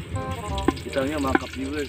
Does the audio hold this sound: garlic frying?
yes